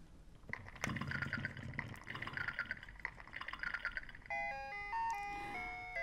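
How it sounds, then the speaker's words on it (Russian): A musical baby toy fish, set off by a button press, plays a bright electronic melody of stepped beeping notes near the end, after a few seconds of busy rustling and clattering handling noise. "Вот нажал на кнопочку этой рыбки. И она сейчас запоет. Она дает какую-то мелодию."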